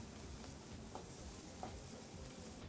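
Chicken frying in a pan with green and yellow curry, saffron and coconut milk, a soft steady sizzle with a few quick scrapes of stirring, quiet and close.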